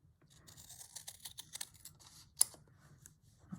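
Scissors cut through fabric for slow-stitch work in a quiet room, giving a faint run of small crisp snips followed by one sharper, louder snip.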